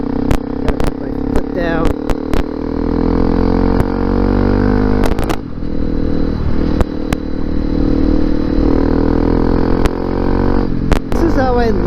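A Honda CRF250L Rally motorcycle rides a gravel fire road, its engine droning steadily and loudly throughout, with scattered sharp clatters and crunches from the loose stones.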